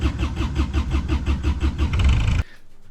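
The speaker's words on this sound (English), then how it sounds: "Once you've started and run your engine," The inboard engine of a Moody 33 sailboat cranks with a fast rhythmic chugging of the starter, catches briefly, then cuts off abruptly, leaving quiet; loud and close by.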